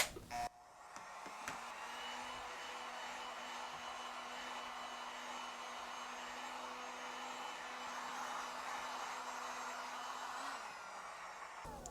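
A heat gun blows steadily on the screen of an iPhone 13 during a battery replacement, a constant quiet whooshing hum that runs unbroken and alone.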